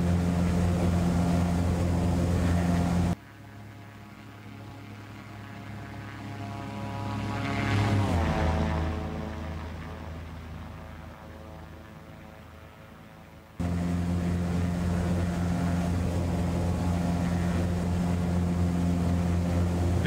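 Steady propeller drone of a Maule M-7-235B single-engine light aircraft in the X-Plane 12 flight simulator, loud and continuous, dipping to a quieter muffled hum for several seconds while a tone swells and fades, then returning to full strength.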